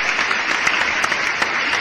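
Dense clapping from a group, steady and fairly loud throughout the short stretch, with no voices over it.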